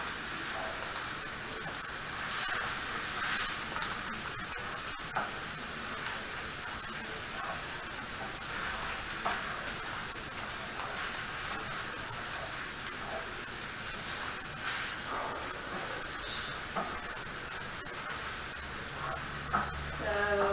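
Browning taco meat stirred in a pan, giving a steady continuous sizzle and hiss with faint scraping throughout, moderately loud and close.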